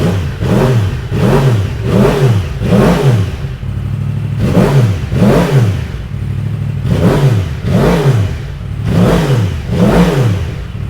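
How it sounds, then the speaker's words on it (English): A Yamaha R1 sport bike runs at idle in a garage right after new spark plugs go in, close and loud, with a steady pulsing rhythm that rises and falls in regular surges. "Sounds better. Wait till it warms up. Idle."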